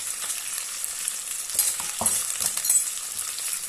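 Garlic frying in a pan with browned meat, a bright crackling sizzle with stirring scrapes and a few metallic clinks, close and steady for a few seconds.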